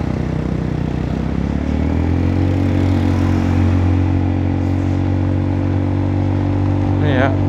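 A Yamaha Forza 300 scooter engine is held steady at 6,000 rpm, giving a loud, close, sustained drone with a rattly edge that barely changes throughout.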